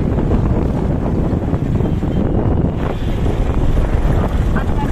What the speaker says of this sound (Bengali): মোটর সাইকেলে যাচ্ছি।